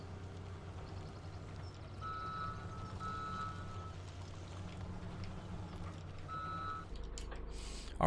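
Reversing beeps from a truck in the video game Farming Simulator 17, a steady series of short electronic tones repeating over a low engine rumble and background game noise.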